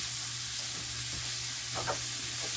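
Ground beef sizzles and fries steadily in a hot pan, a loud continuous hiss with a few faint scraping stirs as the meat is broken up.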